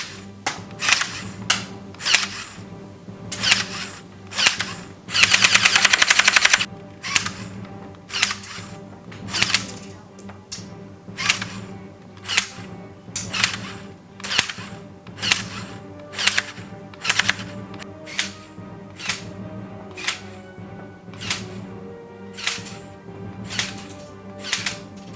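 A LEGO-built SCAR toy gun fires on full auto, giving a steady run of crisp, close plastic clicks with mechanical whirring beneath, plus one short loud burst of rushing noise early on.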